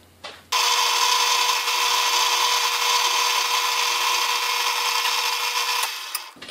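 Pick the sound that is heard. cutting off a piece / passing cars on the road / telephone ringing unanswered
cutting off a piece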